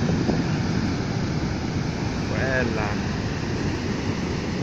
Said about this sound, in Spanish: Miren esa ola, esa ola,